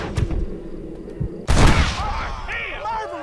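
Gunshots in Red Dead Redemption on Xbox One: a couple of soft early pops, then one loud sharp blast at mid-clip ringing out, followed by fainter game sounds and voices.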